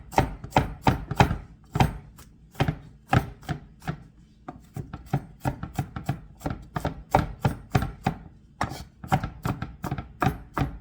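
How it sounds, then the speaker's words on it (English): Knife coarsely chopping brown mustard greens on a board, a steady run of crisp, close thuds in quick bursts with short pauses, no talking. "Now we're going to coarsely chop this up just like we did the other one."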